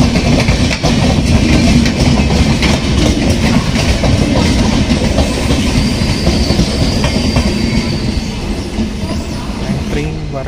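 Weekly sleeper-class express train from Rameswaram to Varanasi running at speed: steady loud rumble with continuous clickety-clack of wheels over rail joints and brief faint squeals, heard from inside the carriage, no talk.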